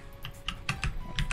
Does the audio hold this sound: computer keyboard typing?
yes